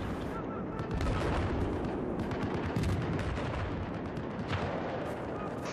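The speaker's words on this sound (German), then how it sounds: "Ja, aber die Schüsse kamen von dem Ivy, gell?" Dense gunfire from the video game Battlefield 4, with rapid continuous shots and booming impacts throughout, loud and sustained, with faint voices underneath.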